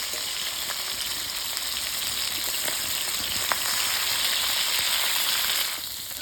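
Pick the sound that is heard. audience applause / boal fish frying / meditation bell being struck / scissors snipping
boal fish frying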